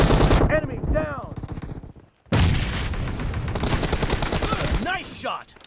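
Rapid automatic gunfire from the battle game BGMI (PUBG Mobile) in a team deathmatch, dense bursts of loud shots with a short pause midway, then sustained firing, with game voice lines mixed in.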